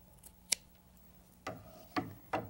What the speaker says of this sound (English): And the excess can be cut away